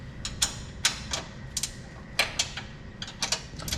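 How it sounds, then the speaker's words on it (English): Ratcheting wrench work on the lower suspension arm bolts of a Yamaha YXZ 1000R, a 14 mm bolt with a 19 mm nut, during a long travel suspension install: repeated short bursts of close mechanical clicking with pauses between, no talking. "So for the lower arm, you're gonna remove these 2 bolts here."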